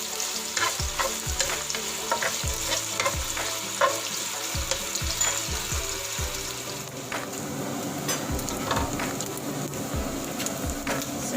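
Pork sizzles loudly in a hot pan for Ilocano-style pansit bihon, a continuous close frying hiss broken by repeated utensil scrapes and knocks as it is stirred.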